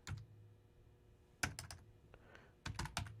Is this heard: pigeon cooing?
no